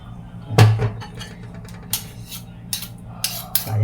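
Butter being mixed into marinated meat with metal utensils: a sharp clatter of spoon against bowl, then several lighter scraping clinks at uneven intervals, close and fairly loud.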